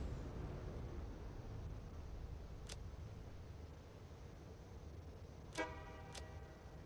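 A vehicle horn honks in the video game Satisfactory, a quick pair of short tonal toots heard over a steady low mechanical rumble, after an earlier single brief click.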